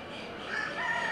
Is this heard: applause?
no